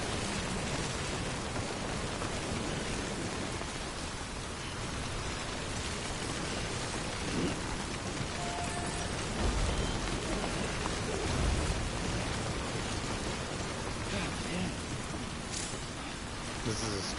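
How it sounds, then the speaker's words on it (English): Steady rainfall in the video game Death Stranding, a dense, even hiss of rain on surfaces that runs throughout with faint low rumbles, and no one talking. "It'd be a lot easier to go through this area without the rain."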